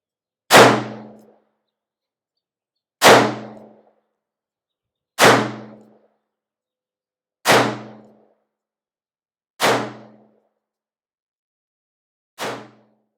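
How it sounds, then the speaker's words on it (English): Six loud, sharp revolver shots firing standard .38 Special loads, evenly spaced about two to three seconds apart, each with a quick ringing decay and no talking between them. "So I'm just shooting 38 special out of this."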